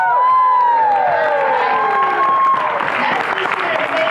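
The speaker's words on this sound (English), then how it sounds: "so big round of applause for them" Applause and cheering from a crowd at a corporate sales speech in Puerto Vallarta, loud sustained clapping with whoops and shouts filling the room throughout.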